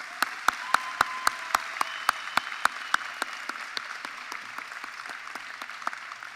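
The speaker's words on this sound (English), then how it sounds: "About one last round of applause for these award winners." Applause from a graduation audience for adult and community education award winners, a few sharp, steady claps repeating over a constant wash of crowd clapping that stays even and moderately loud.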